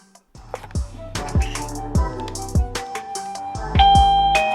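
A wireless doorbell camera's indoor unit plays a bright melodic chime, a sequence of ringing tones with sustained decays, loud and close, with no talk.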